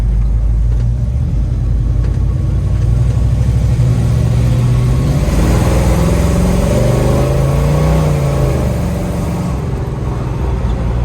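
A 1966 Chevrolet Chevelle engine, loud and close, idles with a deep rumble before the revs swell and climb in the middle, then ease back to a steady drone.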